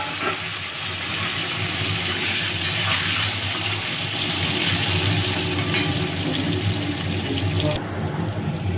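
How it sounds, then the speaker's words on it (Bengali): Potatoes and papaya hit hot oil tempered with five-spice and other seeds, giving a steady, loud, close sizzle that hisses evenly throughout, with no talking. "আমি একটু ফোড়ন দিয়ে তোমার হচ্ছে আলু আর পেঁপেগুলো তুলে দেবো"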